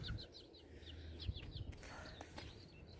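Backyard chickens cluck and chirp faintly in a spring garden, a scatter of short soft calls over quiet outdoor background.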